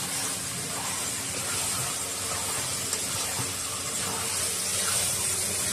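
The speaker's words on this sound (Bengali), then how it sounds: "এটাকে জল দিয়ে নাড়াচাড়া করে নিয়েছি।" Water poured into liver (kaleji) frying in a pan and stirred, giving a steady broadband sizzle and hiss that holds evenly throughout without talk.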